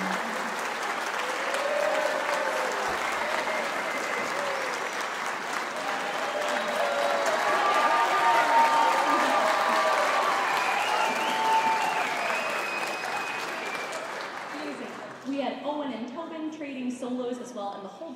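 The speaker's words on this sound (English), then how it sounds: "how about a round of applause for our composer?" Sustained applause from a jazz concert audience, dense clapping that swells and fades over many seconds before a few voices and instrument notes come in near the end.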